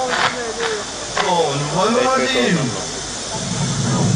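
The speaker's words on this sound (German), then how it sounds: "was man hier hört, ist einströmende Luft" A steady hiss of air rushing into evacuated Magdeburg hemispheres runs throughout while someone speaks briefly in German over it.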